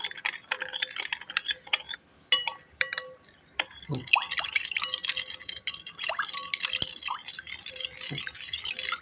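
Spoon stirring bread dough mixed with sugar and yeast in a bowl, giving repeated scraping and clinking strokes close by, with a voice talking over much of it.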